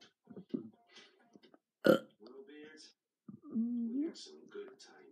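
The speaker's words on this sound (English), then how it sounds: "I'm going to try and make the loudest burp." One loud, abrupt burp erupts between bits of a child's chatter, standing out sharply against otherwise quiet talk.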